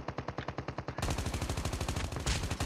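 Rapid automatic gunfire from the shooter game Call of Duty: Mobile, sharp rhythmic bursts that start quieter and then swell into a louder, denser volley, with no talk.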